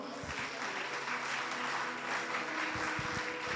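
A church congregation claps at a worship service, a broad wash of steady applause that is moderately loud and continuous, with faint low tones from a voice or instrument briefly underneath.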